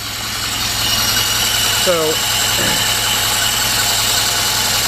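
An engine idles steadily and loudly after a fuel system repair, a constant mid-pitched running drone with a short spoken word over it partway through.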